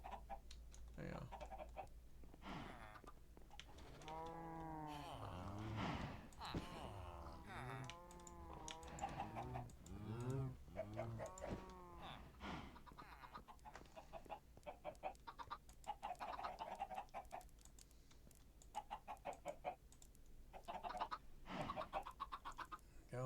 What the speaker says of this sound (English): So we'll have a lot of chickens.